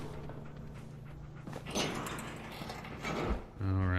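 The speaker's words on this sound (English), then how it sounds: "dog was making a sooky noise" A dog whines and pants in Fallout 4 VR, soft whimpers and breathy panting mixed with mechanical game sounds and a sliding door, under a moderately loud game soundscape.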